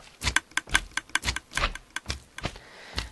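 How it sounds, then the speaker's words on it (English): A Minecraft dispenser item elevator clicks in a rapid, uneven series of sharp clicks, about a dozen in quick succession, fairly close and alone without talk. "You hear it stops clicking, that means that the dispensers are all full."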